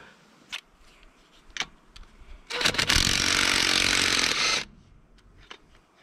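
A pneumatic impact wrench loosens bolts on the fuel line of an MF31 tractor during fuel leak repair. It fires in one loud, sustained two-second burst between faint clinks and handling noises.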